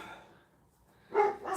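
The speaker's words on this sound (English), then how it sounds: "barking in the background" A dog gives a couple of short barks in the background of an indoor room, fairly quiet and set off against near-silence.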